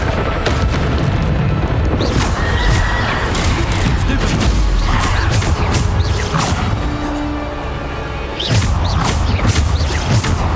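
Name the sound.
Bombarda spell blast in the video game Hogwarts Legacy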